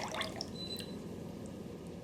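Melted butter and a cup of milk pour into red velvet cupcake batter in a bowl, a soft continuous liquid trickle with faint drips, steady and close, with no talking.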